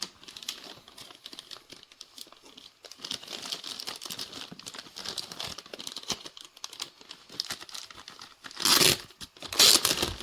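A plastic bag around a Steam Deck handheld is handled and opened, giving close crinkling and rustling across the whole stretch, with two louder, sharper tearing bursts near the end.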